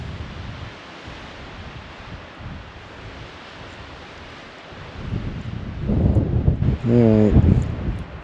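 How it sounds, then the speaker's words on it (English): Strong wind rushes and buffets the microphone steadily on a snowy mountain hike, gusting louder near the end as someone briefly speaks. "This wind is pissing me off."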